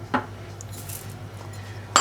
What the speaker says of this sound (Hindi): और अब इसे अच्छी तरह मिक्स कर लेते हैं।